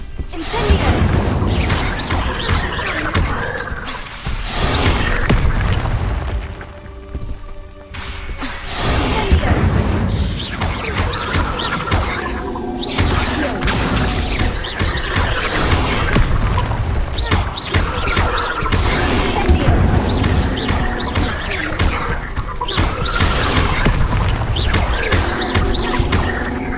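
Incendio fire spell blasts in the Hogwarts Legacy video game, rolling booms and crashing bursts under a dense, continuous layer of game noise and effects throughout, loud and close.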